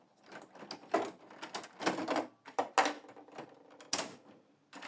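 An ink cartridge is taken out of a Canon MG3650 printer, a busy run of close plastic clicks, scrapes and snaps with uneven rhythm and one sharp snap near the end, with no speech.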